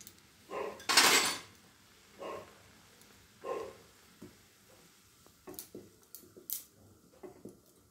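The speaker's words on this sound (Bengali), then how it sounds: "এবার এটাকে ভালো করে মিশিয়ে দিচ্ছি" A spoon stirring spinach soup with ghee in a pan, giving a few soft scraping and clinking strokes with a faint sizzle between them, close and fairly quiet, with no talk.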